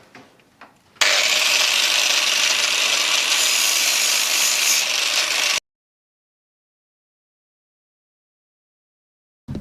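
Sharpening a Countax C300 lawn tractor mower blade with a power grinder, a harsh, loud, steady grinding hiss lasting about four seconds close up, preceded by a few light knocks and followed by silence.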